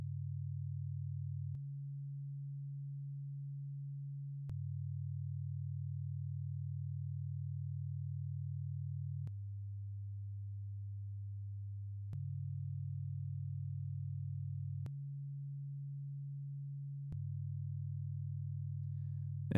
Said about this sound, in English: And now you can hear an interval as in a music chord.